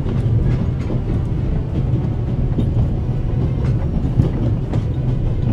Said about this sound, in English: We're going to stop this train